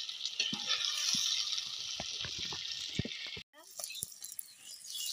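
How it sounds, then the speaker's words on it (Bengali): Chopped onions sizzle in a pan for chicken kosha while being stirred, a steady hiss of frying under scattered scraping knocks, with a brief dropout before the sizzle resumes; a voice speaks over it. "কেটে রাখা পেঁয়াজ গুলো, পেঁয়াজটা একটু নেড়ে চেড়ে ভেজে নেব।"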